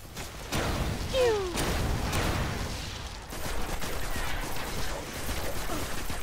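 Loud bursts of gunfire in the video game Destiny, several close shots and rattling volleys with whooshing effects over roughly six seconds, mixed with game sounds and a voice speaking.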